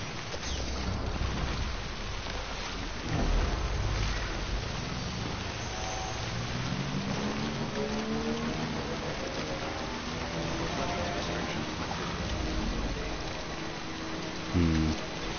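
Steady rain falls in the video game Death Stranding, timefall, a dense even patter with bursts of insect-like buzzing and a soft tonal hum rising over it. A few louder knocks sound near the start and again near the end.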